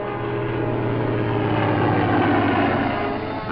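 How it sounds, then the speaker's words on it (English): Wartime Fleet Air Arm aircraft engines drone overhead during the Tunisian campaign, a loud, steady propeller roar that holds without a break. "planes of the Fleet Air Arm and Coastal Command patrol the skies and search the seas"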